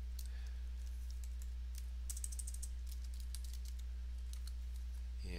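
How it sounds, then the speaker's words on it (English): Typing on a computer keyboard, a quiet scatter of light key clicks with a brief flurry in the middle, over a steady low electrical hum. "So if I'm typing,"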